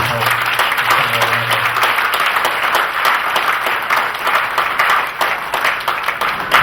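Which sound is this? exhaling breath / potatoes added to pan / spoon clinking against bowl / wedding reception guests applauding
wedding reception guests applauding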